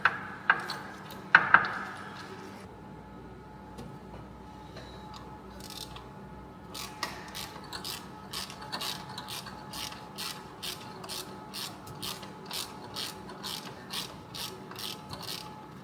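Ratchet wrench undoing bolts on a classic Renault water pump, a long run of quiet, evenly spaced clicks near the mic after a few knocks.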